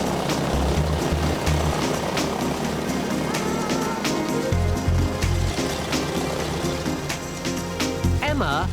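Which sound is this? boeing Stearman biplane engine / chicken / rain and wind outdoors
boeing Stearman biplane engine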